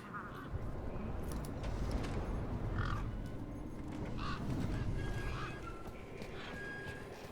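A bird with a vicious-looking beak squawks in the video game Beyond a Steel Sky, giving harsh, scattered calls over a steady, dense in-game ambience.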